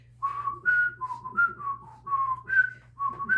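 A person whistles a short, wandering tune while painting, nine or so clear notes of varying pitch and length, close and moderately loud over a faint steady hum.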